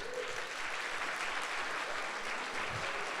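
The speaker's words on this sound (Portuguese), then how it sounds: "Vamos dar um aplauso a Jesus" A church congregation at a Sunday service applauds in praise of Jesus, a dense, steady wash of clapping from many hands that sounds somewhat distant and soft, with no voices standing out.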